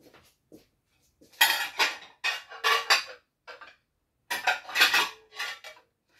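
Plates and dishes clatter and clink during washing up after a garden dinner, arriving in several close, loud bursts of scraping and knocking separated by short quiet gaps.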